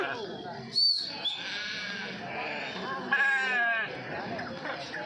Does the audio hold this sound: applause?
no